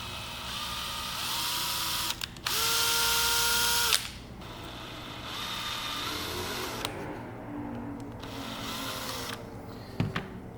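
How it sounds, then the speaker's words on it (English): A power drill bores holes in a 3D printed revolver side panel, running in several bursts of steady whirring with a pause between them and short clicks and knocks, close and alone. "Then on the side panel here, I need to drill those 2 out as well"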